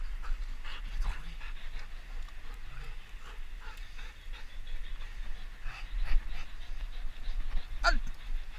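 A shepherd dog pants steadily up close during an obedience training session, its quick breaths running under occasional speech from its handler.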